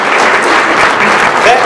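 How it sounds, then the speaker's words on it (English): Loud, dense applause from a crowd at a city State of the City address, a continuous wash of many hands clapping at close range. "That deserves some applause right there."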